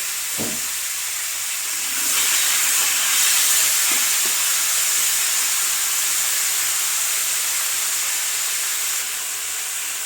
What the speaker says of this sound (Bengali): এবারে কুমড়োর ডাঁটাগুলো আমি ভেজে নেব